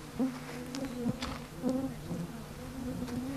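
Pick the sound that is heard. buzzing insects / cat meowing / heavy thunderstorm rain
buzzing insects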